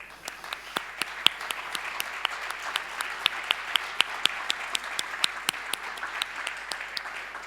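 An awards ceremony audience applauds the category finalists at ARIA 2023, a steady, even patter of many hands with sharp individual claps standing out, sustained throughout without voices.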